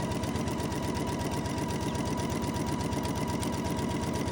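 A sewing machine stitches a seam with a fast, steady mechanical whirr and a dense, even needle rhythm that runs continuously and loudly at close range, with no speech.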